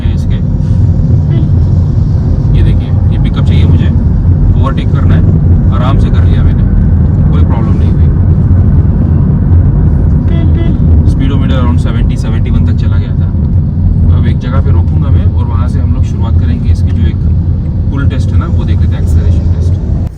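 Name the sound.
Citroen eC3 electric car accelerating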